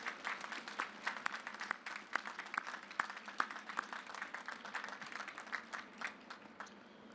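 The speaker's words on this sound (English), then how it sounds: "if you join me in a round of applause and recognizing with gratitude those" Audience applause at the USS Arlington navy ship commissioning ceremony, a sustained spread of many hands clapping, fairly distant and even throughout.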